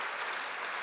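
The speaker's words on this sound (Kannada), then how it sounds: "ಚಪ್ಪಾಳೆ ಇನ್ನೂ ಜೋರಾಗಿ ಹೊಡೀರಿ" A brief, steady burst of dense audience applause at an environmental festival, an even wash of many hands clapping with no pauses.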